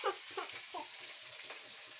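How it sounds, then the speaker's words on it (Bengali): Fish cooking in a pot bubbles and sizzles softly and steadily, a faint close hiss with small popping bursts throughout. "মাছটা ফুটছে"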